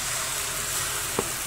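Garlic sizzles steadily in a hot frying pan, a close, continuous crackling hiss with one small clink near the end.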